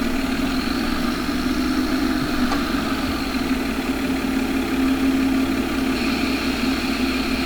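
A 30-20 tractor engine idling, a steady loud rumbling hum that holds evenly throughout with no talk.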